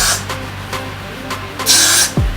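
Got2b hair spray misted onto a wig cap in several short sharp hisses, ending in a longer, louder spray burst close to the mic.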